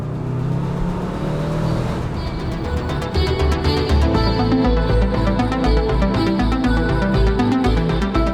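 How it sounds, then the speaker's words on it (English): An Aston Martin DBX 707 SUV pulls hard under acceleration, a loud, close, continuous engine roar that swells after the first couple of seconds, with a rising whine running through it. "A turbo whistle is not something I expected from this."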